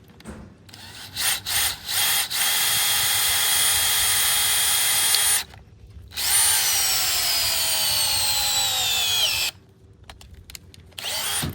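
A DeWalt cordless drill drives a screw in two long, loud bursts of steady whine, with a brief pause between them and faint handling sounds before and after.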